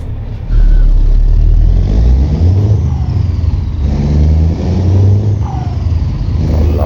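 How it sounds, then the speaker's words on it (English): A deep Scania R580 V8 truck engine in Euro Truck Simulator 2 rumbles loudly and continuously, its pitch rising and falling as it revs, with no voices. "The sound of this truck, it sounds so amazing."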